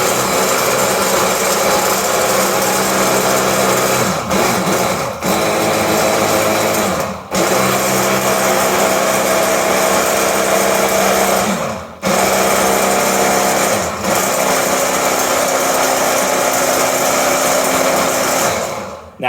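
A blender blitzes cottage cheese for an omelette in loud, continuous bursts, with a few brief cutoffs between pulses and the motor pitch shifting as it chops.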